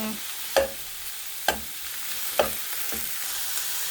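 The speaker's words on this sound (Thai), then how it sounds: "เอาในกระทะเดียวแบบนี้เลยนะคะ คั่วหมูนิดนึง" Minced pork and shrimp stir-fry together in one pan for a Thai larb, a soft continuous sizzle broken by a few evenly spaced scrapes and taps of the utensil.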